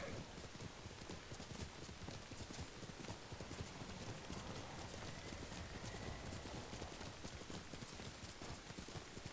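In the video game Ghost of Tsushima, steady, rapid hoofbeats of a galloping horse run throughout, loud and continuous, crashing through bamboo, with a brief whinny-like sound in the background.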